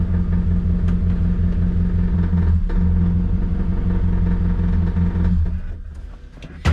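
An all-motor Honda D15 engine in an EF hatchback idles rich on a dyno, a loud, close, steady rumble with a faint mechanical clatter that eases slightly near the end.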